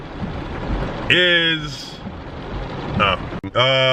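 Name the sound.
rain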